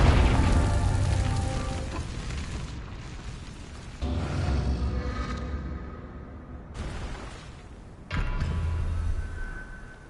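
Confringo explosive spell blasts in the video game Hogwarts Legacy, three heavy booming bursts about four seconds apart, each decaying into a rumbling tail, loud and close.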